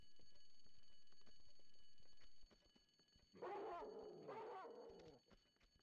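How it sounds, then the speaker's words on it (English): Demon dogs in Tomb Raider 2's dragon lair bark and growl in two loud close bursts after a quiet stretch of faint game ambience, no talk. "I hear you, demon dogs."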